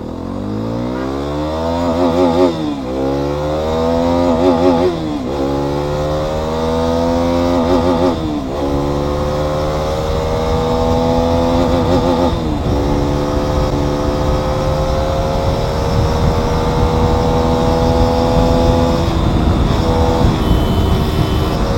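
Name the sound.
Hero Xpulse 210 motorcycle accelerating on top speed run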